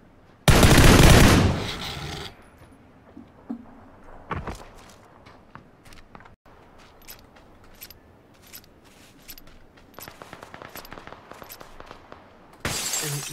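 Video game gunfire: a loud burst of shots opens, then scattered sharp shots and rapid cracks follow with quieter gaps between them, and another loud burst comes at the end.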